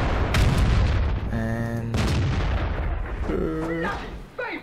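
An artillery shell fired in World of Tanks, a booming discharge under a steady game soundscape, followed later by tonal signal beeps, while someone briefly speaks.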